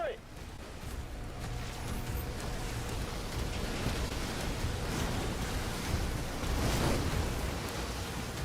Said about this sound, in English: The rain effect is really heavy in this game.